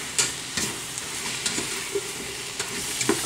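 Wild mushrooms sizzle steadily in a pan for strudel filling, with a spoon scraping and clicking through them several times at an even pace, close and fairly quiet, with no one talking.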